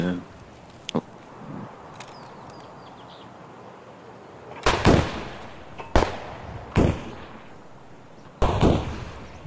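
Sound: gunshots in the video game Escape from Tarkov

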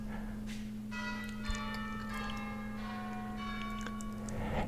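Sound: Norwich Cathedral church bells ringing

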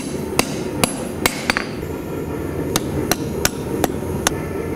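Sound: hammering a chef's knife tang with a fuller in a vise

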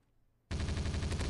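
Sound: SMG gunfire in video game MaskGun

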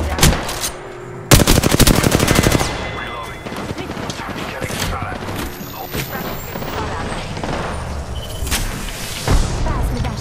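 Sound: grenade explosion in a video game (Apex Legends)

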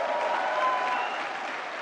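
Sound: loud applause at National Film Awards

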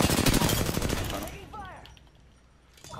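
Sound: gunfire in the video game Apex Legends

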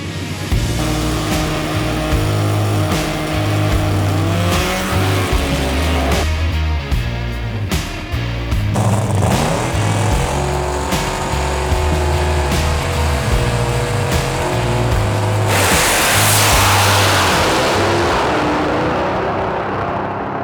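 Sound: drag racing car driving onto the track

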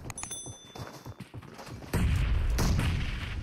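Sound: grenade explosions in a video game match

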